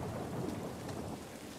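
Steady rain with a low thunder rumble beneath it, from a stormy outdoor scene in The Last of Us Part 1 on PS5; a faint, even wash with no talking.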